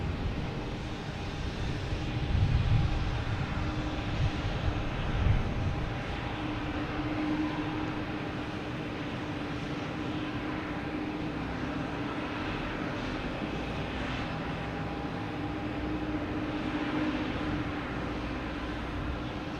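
An American Airlines Boeing 737 MAX 8 from Dallas-Fort Worth on approach to land at Boston Logan: a broad, steady jet roar holds at a moderate distance throughout, with low rumbling swells near the start and no voices.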